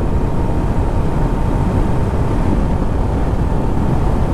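A 2019 Kawasaki Ninja 400 being ridden on a wet, chilly road, heard as a loud, steady roar of engine and rushing wind with no breaks.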